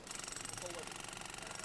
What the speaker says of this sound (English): Rescuers use jackhammers to reach bodies buried under rubble.